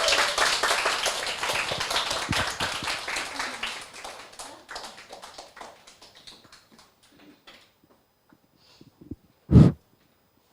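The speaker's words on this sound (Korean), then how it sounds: "큰 박수 부탁드리겠습니다" Audience at a church lecture on Christian history breaking into dense applause that thins and fades out over about six seconds, followed by near silence and a single sharp thump.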